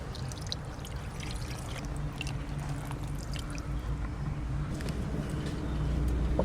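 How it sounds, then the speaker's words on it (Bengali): Water poured over hilsa fish masala smeared on a banana leaf, a steady splashing trickle running continuously and close, with faint background noise and no talk. "এবার এই জলটা দিয়ে দেবো।"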